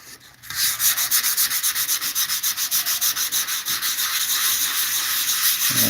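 80-grit paper on a stiff block sands a 1929 Chrysler's body panel in fast, rhythmic back-and-forth strokes, a loud, close, even rasping scrape with no talk.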